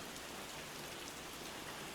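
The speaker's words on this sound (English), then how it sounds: "Watch the rain brush against the trees." Steady rain pours onto trees and grass outdoors under an overcast sky, a dense, even hiss of drops with no break and no voices.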